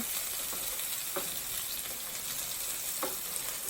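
German meatballs frying in a pan, giving a steady, close crackling sizzle that runs the whole time, with a couple of faint taps from a utensil and no talking.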